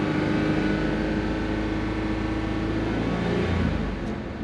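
A car engine held at a raised idle of about 2,000 RPM during a battery and alternator check hums steadily and closely, dropping slightly in pitch near the end.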